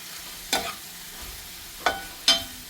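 Vegetables for kurma, with fennel and turmeric powder, sautéing in a pan: a soft, quiet sizzle punctuated by three brief scraping stirs, close by, with no talking.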